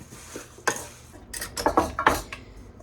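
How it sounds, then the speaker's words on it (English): Apple slices are spread into a baking dish, with close, sharp clinks and scrapes of a utensil against the dish coming in a few irregular bursts. "I'm gonna spread these apples in a baking dish"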